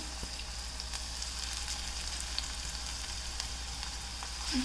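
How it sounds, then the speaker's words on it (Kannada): Onions and green chillies dropped into hot oil, hissing in a soft, even sizzle that stays fairly quiet and steady, with no one speaking. "ಎಣ್ಣೆ ಬಿಸಿಯಾಗಿದೆ ಇವಾಗ ನಾನು ಈರುಳ್ಳಿ ಹಾಕ್ತಾಯಿದ್ದೀನಿ ಮತ್ತು ಹಸಿರು ಮೆಣಸಿನ್ಕಾಯಿ ಹಾಕ್ತಾಯಿದ್ದೀನಿ"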